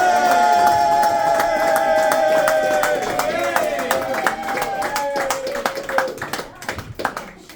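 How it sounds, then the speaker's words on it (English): A crowd claps and cheers for the comedy headliner Ballyrags, a dense burst of applause that starts loud and thins to scattered claps, while a whistle or cheer glides down over it. "give a big round of applause and the biggest cheer ever for our headliner, the one and only Ballyrags!"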